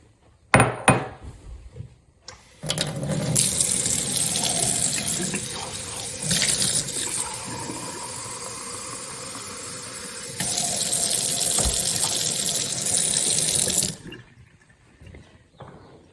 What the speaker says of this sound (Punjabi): ਇਹਦੇ ਵਿੱਚ ਪਹਿਲਾਂ ਮੈਂ ਅੱਧਾ ਕੱਪ ਪਾਣੀ ਦਾ ਪਾਉਂਗੀ